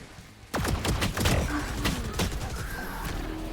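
Sharp gunshots from the tactical shooter Valorant, starting abruptly and firing in quick bursts close by, with clicks and thuds between the shots.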